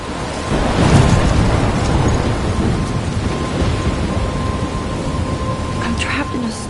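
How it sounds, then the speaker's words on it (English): A video-game thunderstorm: a deep roll of thunder swells near the start, then steady heavy rain hisses on without a break, loud and close. "I'm trapped in a storm?"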